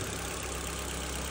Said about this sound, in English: So there we have it, the first start after the timing belt.